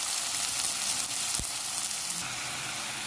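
Peas sautéing in a pan for vegetable biryani, a dense continuous sizzle close by with a single low knock of a utensil partway through.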